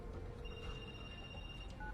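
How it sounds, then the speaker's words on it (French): A mobile phone rings behind a closed door, its steady electronic ringtone sounding muffled and moderately distant over low background noise. "j'entends ton téléphone"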